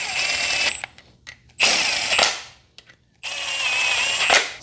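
Bolts on a Mercedes V12 engine part are tightened with a power tool in three close, loud bursts of high whirring, each broken off by short clicks and pauses.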